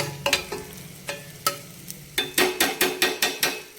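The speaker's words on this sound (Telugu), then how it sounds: "ఇంకా కొంచెం వేగాలండి" Stuffed brinjal (gutti vankaya) masala frying in a pan, with a low sizzle under repeated sharp spoon knocks and scrapes against the pan, coming faster in a rhythmic run near the end.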